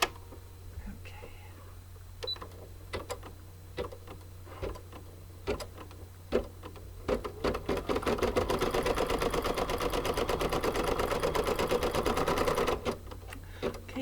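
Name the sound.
embroidery machine stitching a placement line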